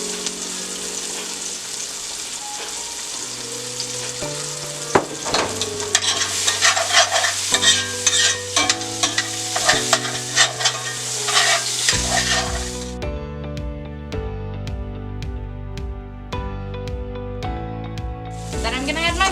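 Pieces of food brown in a hot oiled pan, a continuous loud sizzle and spatter with repeated stirring scrapes and clatters, changing tone partway as the frying settles.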